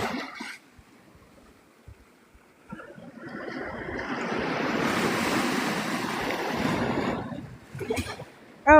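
Ocean surf and wind at Navarre Beach, Florida. Quiet gusts give way to a long, rushing wave that builds, roars for several seconds and then fades, ending with a brief, louder bump.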